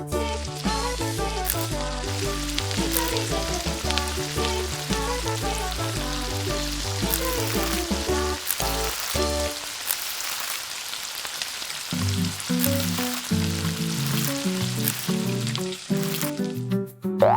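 Hot cooking oil sizzles steadily while miniature grilled fish cooks, a fine crackling hiss running under loud, rhythmic background music throughout.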